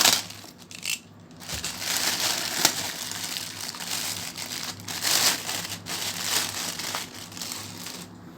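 Sealed plastic packaging on a Sweeton 4-inch woofer being cut open, close crinkling and crackling of plastic in irregular bursts, no talking.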